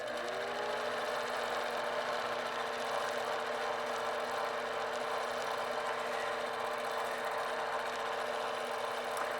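A sewing machine hums steadily and close while stitching dense McTavishing background filler in free motion quilting, its rapid stitching a continuous mechanical whir with no pauses.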